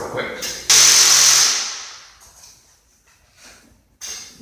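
Power drill driving screws to mount ceiling fan blades: a loud close whirring burst lasting about a second that winds down, then a quieter short spin near the end.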